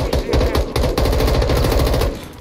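Rapid automatic gunfire in the video game Call of Duty Modern Warfare 2 beta, a loud continuous burst of shots over about two seconds with dense rhythmic cracks and some voice underneath.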